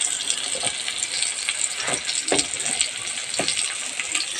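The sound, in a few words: spices and turmeric frying in pan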